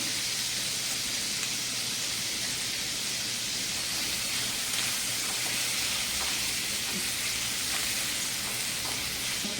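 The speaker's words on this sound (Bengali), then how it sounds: "হালকা করে একটু ভেজে নেব।" Food frying in a pan gives a steady, continuous hiss of sizzling oil, even and unbroken throughout, moderately soft and close with no talk.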